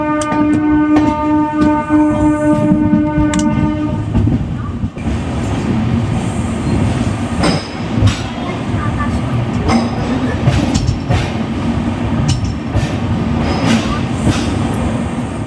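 Sanghamitra Express train running on rails near Vijayawada Junction, Andhra Pradesh: a loud, steady rumble of wheels and carriages with a brief whistle-like tone at the start.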